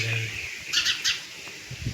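Sparrows chirping around a nest: a short cluster of bright, quick chirps in the middle, with quieter background noise before and after.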